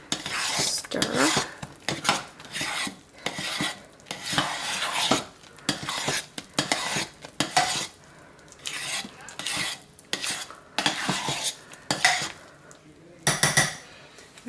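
A thick batch of homemade shaving soap being stirred in a pot, with repeated scraping strokes and clinks against the pot's sides in irregular bursts, fairly close and alone.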